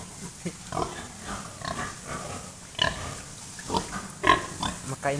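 A pet pig grunts repeatedly at close range, giving short rough bursts at irregular intervals with some background voices.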